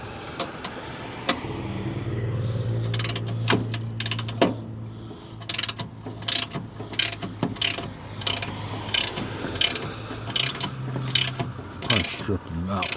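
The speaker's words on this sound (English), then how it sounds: "I might be able to get it started with the socket" A socket ratchet turns a bolt as it threads in on an American Clipper, with repeated sharp clicking bursts in an irregular rhythm over a steady low engine-like hum, close and fairly loud.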